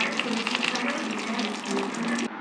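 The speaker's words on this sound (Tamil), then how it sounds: "புளி தண்ணி ஊற்றிக்கலாம்" Tamarind water poured into a pot of Tirunelveli-style dal kuzhambu, a steady close splashing stream lasting about two seconds before stopping abruptly.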